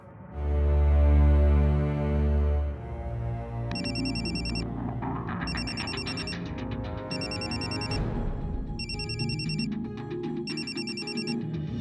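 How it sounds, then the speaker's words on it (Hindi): A phone rings in repeated bursts with short pauses between them, loud and close, over a steady background of music. "लवली के पापा का फोन"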